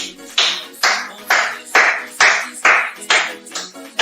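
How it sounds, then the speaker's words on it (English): Hands clapping in a steady rhythm, about ten sharp, loud, close claps spaced evenly as a warm-up at a virtual Donate Life family fun run kickoff. "Clap, clap."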